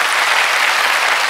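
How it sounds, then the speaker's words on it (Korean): A church congregation claps together during a revival service, with dense, steady applause filling the space loudly and evenly from start to finish, and no voices standing out. "박수를 한번 치고서"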